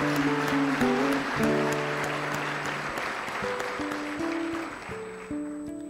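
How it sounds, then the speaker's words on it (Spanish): Audience at a school graduation ceremony applauding the parents, a thick continuous patter of clapping with music-like sustained tones playing underneath, gradually easing toward the end. "Agradecemos con un caluroso aplauso a los apoderados de la G23"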